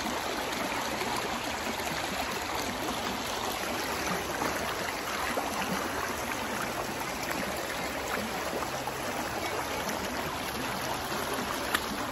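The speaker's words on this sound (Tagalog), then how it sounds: "Ang bilis ng tubig." Fast-flowing stream water in Japan in summer, a steady close-up rushing and gurgling that runs unbroken and fairly loud with only faint low rumble beneath.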